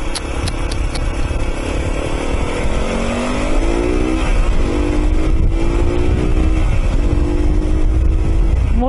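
A Mondial Rx3i Evo motorcycle pulls away from a green traffic light, its loud, close engine rising in pitch through the gears, with steady wind and road roar underneath.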